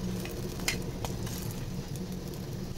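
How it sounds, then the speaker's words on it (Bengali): Vegetables frying in a pan make a soft, continuous sizzle with a few faint crackles and light stirring sounds, low and steady throughout with no talking. "আর এটা একটু ভাজা হোক, তারপর তুলে নেব।"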